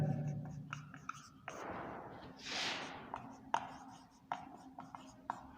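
Writing on a board during a Hindi-language science lesson on metals and non-metals. Quiet scratchy strokes and sharp taps come in short irregular bursts, with no speech.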